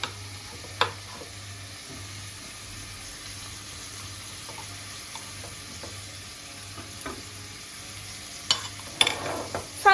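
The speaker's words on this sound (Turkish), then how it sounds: "Havuçla birlikte de 2-3 dakika kavuracağım." Carrots and tomato paste sautéing in a pan give a soft, continuous sizzle under a low hum, with a few sharp spoon-on-pan scrapes and clinks as they are stirred, busier near the end.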